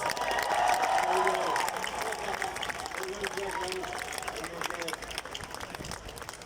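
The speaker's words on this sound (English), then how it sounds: "Give him a big, massive round of applause." A crowd at a traditional Irish music fleadh applauds a young musician, dense clapping mixed with whoops and cheers filling the hall, with voices talking over the steady wash.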